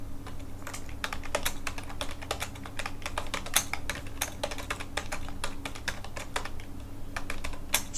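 Keys clatter on a computer keyboard during Bangla text entry in Microsoft Word, a steady run of close, crisp clicks and taps for about eight seconds with no voices.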